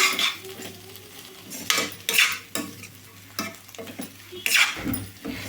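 Fried ridge gourd mixed with grated coconut gets stirred in a pan, with repeated loud scraping and clattering of a spatula against the metal and a faint sizzle between the strokes.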